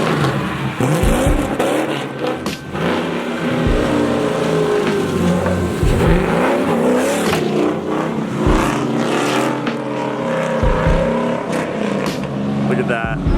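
A car drifting and revving hard on a night street, its engine roaring loudly and steadily throughout with surging revs, and people's voices mixed in.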